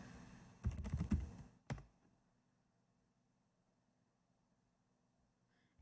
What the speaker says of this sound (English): you can type your word